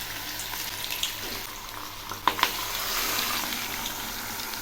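Grated taro and ground taro dropped into hot oil seasoned with chilli and black cumin, a steady soft sizzle with a couple of sharp spatter crackles midway, close and alone.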